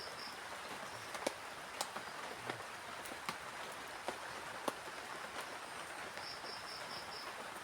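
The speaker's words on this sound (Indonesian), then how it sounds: "Sambil ditemani sama rintikan hujan ya." Light drizzle falls on a forest campsite at night: soft, faint hiss with scattered, irregular drops ticking sharply on nearby surfaces.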